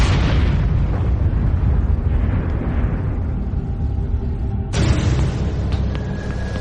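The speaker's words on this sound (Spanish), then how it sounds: "arrojar la bomba atómica en Japón" A massive atomic bomb blast over Japan rolls out as a deep, sustained roar of rumbling low-end energy, loud and continuous, with a sudden renewed surge of crackling noise partway through.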